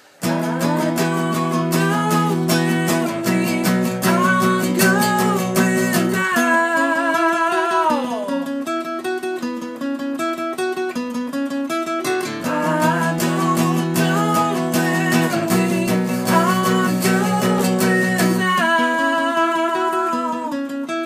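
Guitar riff from a song, a bright rhythmic strummed pattern with walking bass-string movement and repeating chord changes, played alone and loud for about twenty seconds.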